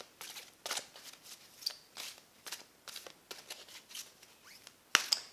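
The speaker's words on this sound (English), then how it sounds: "I'm going to pick some mermaid cards." Mermaid oracle cards being shuffled and picked, giving repeated soft papery swishes and flicks in irregular bursts with a sharper snap near the end, close and fairly quiet with no talking.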